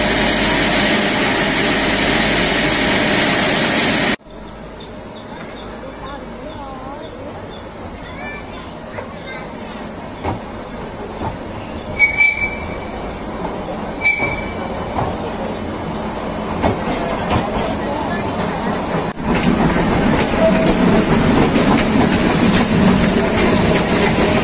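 The Mettupalayam–Ooty mountain railway train rolls along its rails on the first run of restored service, a sustained rumble with clickety-clack wheel sounds, and voices can be heard at times over it.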